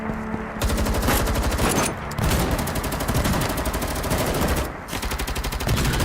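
Dense, sustained automatic gunfire fills the battle in the game Girls' Frontline 2, a loud continuous rattle of rapid shots that breaks off briefly twice before resuming, with no talk over it.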